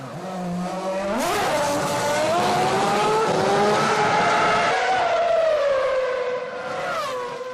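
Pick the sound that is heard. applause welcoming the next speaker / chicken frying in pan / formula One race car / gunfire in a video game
formula One race car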